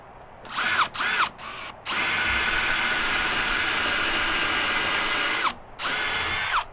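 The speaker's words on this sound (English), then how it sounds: "What we do, drill a hole and the head will then go into the hole" A power drill bores a screw hole in timber during construction of a stable, starting with a few short whirring bursts before one long, steady, close run that briefly stops and starts again.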